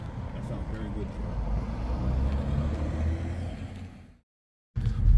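A truck engine with an exhaust leak revs and drones loudly and steadily for about four seconds, fades, cuts to silence, then returns abruptly; a voice talks over the engine.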